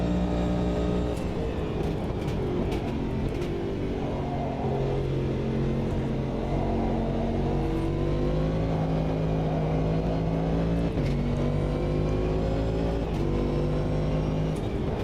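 Several race car engines in Automobilista 2 drone and rev together for a sustained stretch, with rising and falling pitch sweeps and no pauses.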